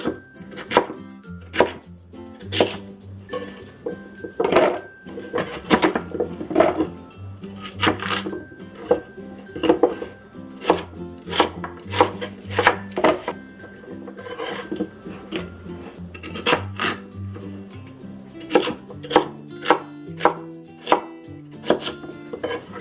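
Lotus root being cut into pieces with a knife for Cantonese soup, a long series of crisp, loud chops on a board that land at an uneven pace with brief pauses between bursts.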